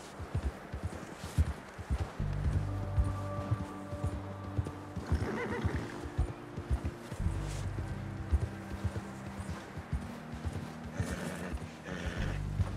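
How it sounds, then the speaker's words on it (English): A horse in Red Dead Redemption 2 snorts and whinnies amid hoof clip-clop, with game music and ambient sounds running throughout at moderate level. "Did you hear my horse complaining there?"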